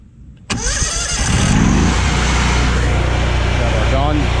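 A pressure washer's small engine cranks and catches about half a second in, then settles into a loud, steady close-up running drone.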